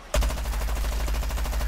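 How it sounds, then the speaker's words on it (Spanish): Rapid automatic gunfire from a close-range weapon in the shooter game Plants vs Zombies Garden Warfare, a loud steady burst of quick repeated shots starting abruptly and continuing without pause. "Porque de cerca disparamos como mucho más rápidos los tiros"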